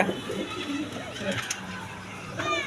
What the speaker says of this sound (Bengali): এক পেয়ার ব্ল্যাক ডায়মন্ড বলে ডেনিস কবুতর